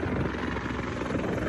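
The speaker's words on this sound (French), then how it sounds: "dans le ciel, 2 hélicoptères de combat ukrainiens survolent les environs." Two Ukrainian combat helicopters fly overhead, a steady, full rotor drone that fills the whole short stretch without pause.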